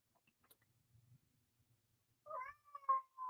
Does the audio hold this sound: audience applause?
no